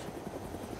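A helicopter in the video game DayZ flies overhead with a continuous, loud, thudding rotor drone and no talk over it.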